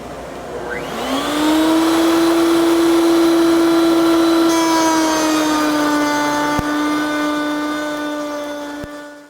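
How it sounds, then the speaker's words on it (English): A router spinning up and cutting wood on a router table with a backer board, a loud, steady high-pitched whine that rises in pitch at the start and holds for several seconds, with brief clicks near the end and no talk. "So I've set up the router table and a backer board to help prevent some of that tear out."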